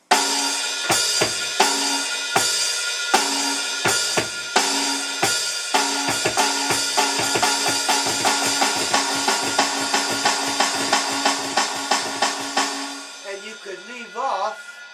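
A drum kit plays a fast, driving blast beat with cymbals and the snare on the downbeat, starting slow and speeding up into a steady blast, then fading as a voice begins.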